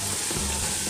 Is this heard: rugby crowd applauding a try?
no